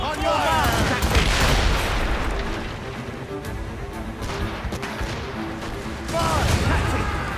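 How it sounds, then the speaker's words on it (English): A volley of ship cannon fire in the naval battle of Assassin's Creed Rogue, heavy rolling booms and crashes that swell at the start and again near the end, with voices shouting amid the barrage. "They are firing a volley!"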